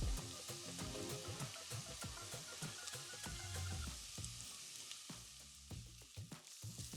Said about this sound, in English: Now our onions are starting to brown, so we're adding our garlic and ginger paste